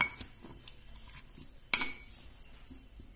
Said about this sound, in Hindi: अब हम इसको अच्छे से इसमें क्रश कर लेंगे, जिससे हमारे नींबू का और पुदीने का जो रस है वो निकल जाए।